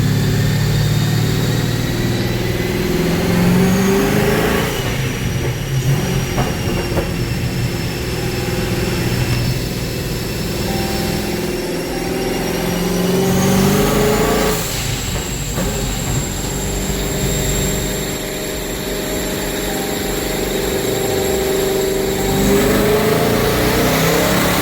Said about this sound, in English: It spun the tires, bro.